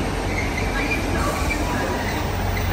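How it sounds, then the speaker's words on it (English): A Trans-Pennine Express train passes at a station platform, a steady loud rumble of wheels and engine with broadband rail noise throughout, no clear onset or fade. "That is our train."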